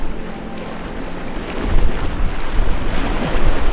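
Sea surf washes onto a nearby shore, a steady broadband rush that swells louder partway through, with wind buffeting the microphone throughout.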